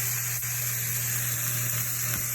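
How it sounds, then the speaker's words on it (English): Seasoned food simmering and lightly smoking in a pan gives off a steady close sizzle with a constant hiss, joined by a low hum and a couple of faint clicks. "So it's starting to simmer a little bit"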